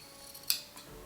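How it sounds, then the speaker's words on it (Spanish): Scissors snip small notches into fabric draped on a dress form while a basic blouse pattern is being made, giving one crisp, close cut over a quiet room. "Entonces cortamos y vamos a hacer unos piquetes"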